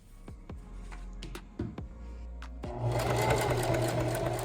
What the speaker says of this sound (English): Now it is time to stitch them and put them back on the shirt.